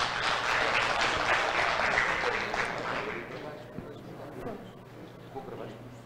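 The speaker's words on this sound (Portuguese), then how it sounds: "Peço uma salva de palmas para a Fabiana." Audience applause at an architecture seminar on the contemporary metropolis and the Lusophone world, a dense, steady clapping that fills the room and slowly tapers off over several seconds.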